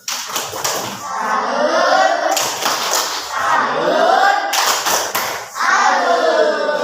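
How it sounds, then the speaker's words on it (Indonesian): Classroom of students clapping hands together in a patterned cheer, rhythmic bursts of claps in groups separated by short gaps, with children's voices chanting along. "yuk kita beri tepuk salut."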